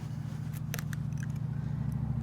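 Pruning shears snip through a pear tree branch cut for grafting, a few quick crisp clicks over a steady low hum.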